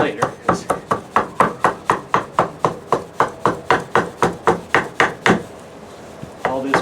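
A steady run of about twenty crisp chopping strikes lands in quick, even rhythm as a hatchet trims wood from a carved spoon blank, close and sharp, before a brief pause and a final knock.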